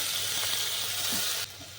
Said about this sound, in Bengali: এটাও হালকা করে ভেজে নেব